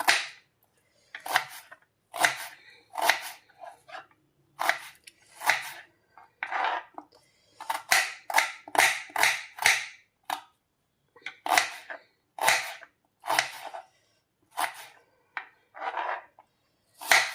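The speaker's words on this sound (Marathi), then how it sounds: "आता इथं मध्यम आकाराचा कांदा कट करून घ्यायचा आहे" A knife cuts a medium-sized onion on a board in uneven bursts of crisp, close chopping strokes, speeding into a rapid run midway before slowing again, with no talking.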